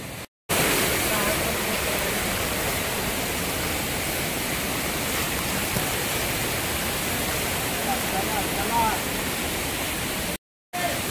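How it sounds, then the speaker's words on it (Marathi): Water rushing over rocks near a waterfall on a mountain trail, a dense continuous roar heard close and steady, cutting out briefly at the start and near the end. "सगळीकडून पाणी पाणी वाहते."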